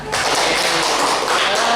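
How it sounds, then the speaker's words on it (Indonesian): A classroom of students claps hands together in unison, a dense, steady burst of clapping that starts abruptly and carries on evenly at close range for nearly two seconds. "Tepuk tangan."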